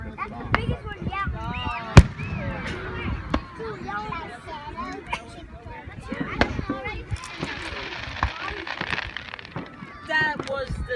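Fourth of July fireworks in 2017 pop and bang repeatedly at mixed distances, one sharp loud blast near two seconds standing out, while children and other people talk and shout throughout.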